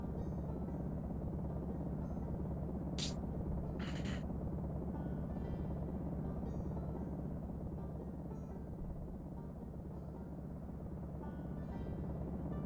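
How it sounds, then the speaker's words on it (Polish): A steady, droning helicopter rotor hum in the video game Project Zomboid fills the whole stretch, continuous and fairly loud, with a couple of brief higher hisses early on. "Czy ja słyszę śmigłowiec?"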